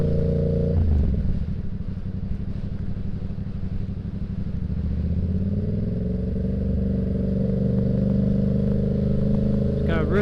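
A 2022 Yamaha R7 sport bike engine drones steadily and loudly while being ridden, its pitch shifting as it speeds up and settles, with a rider talking over the continuous engine and wind noise.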